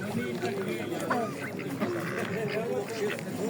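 Ducks and drakes for sale at a fair in Vinnytsia, quacking and honking in a busy, overlapping chorus close by, under steady conversation between people.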